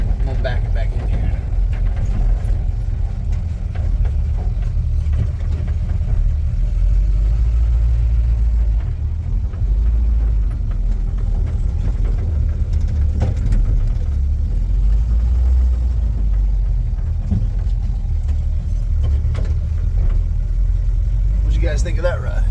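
A 1947 Ford car backs into a garage, its engine a steady low idling rumble that carries throughout, close and fairly loud, with voices heard over it.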